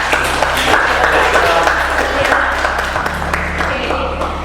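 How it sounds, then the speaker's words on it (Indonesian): A class gives a round of applause for Tiara, the third-place winner. Brisk clapping from a small group sits close under a steady low hum, and a voice speaks briefly over it. "Tiara juara 3, kita tepuk tangan dulu buat Tiara."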